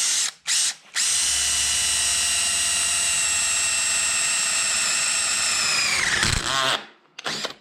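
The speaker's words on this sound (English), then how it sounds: "That one was the Dewalt step bit, kind of the equivalent." A DeWalt step drill bit bores a hole with a power drill, a loud, steady high-pitched whine lasting about five seconds after brief starts, then winding down sharply as it stops.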